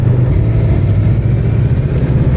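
A motorcycle pulling away in third gear, its engine a loud, close, steady low drone that labours slightly without rising into a clear rev, with wind rushing over the rider.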